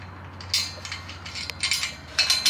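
A nut is spun by hand onto the bolt of a steel horse stall panel, making close, light metallic clicks and scraping in short, irregular bursts over a low steady hum.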